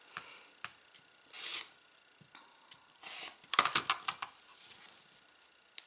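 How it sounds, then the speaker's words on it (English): Scissors snip loose threads on a pieced quilt block, giving a series of faint, sharp clicks and short rasping cuts scattered irregularly, with a busier cluster of snips near the end. "I'm just going to snip that I missed"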